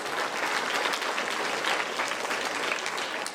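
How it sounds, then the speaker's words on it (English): An audience at a speech event bursts into a big round of applause, a thick, even roar of many hands clapping that carries through without pause. "Big round of applause"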